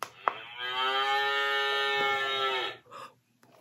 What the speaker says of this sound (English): the cow said moo